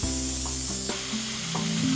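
Arc welding gives off a continuous crackling sizzle over a steady, droning machine hum. The sound is close and even throughout, with no one speaking.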